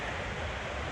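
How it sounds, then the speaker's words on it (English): Steady broadband rush of a waterfall on the Multnomah Falls loop trail toward Larch Mountain in Oregon, a continuous even roar with no breaks, moderately loud and unbroken throughout. "Here's the last waterfall. You can hear it in the background."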